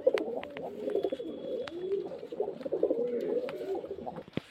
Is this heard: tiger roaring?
no